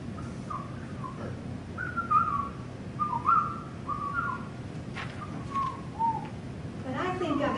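A person whistles an imitation of a bluebird's soft call, several gentle warbling phrases over a murmur of background room noise.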